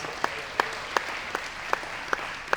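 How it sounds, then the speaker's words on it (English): An audience in a church setting gives a round of applause, heard as a steady, evenly spaced run of sharp claps about three per second over a soft, continuous crowd wash, fairly faint throughout. "Can we just give her a big round of applause?"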